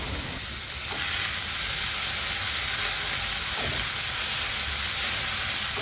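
Small onions sizzle steadily in a hot pan with crushed ginger and garlic, a constant bright frying hiss with a couple of faint knocks, close and without talk.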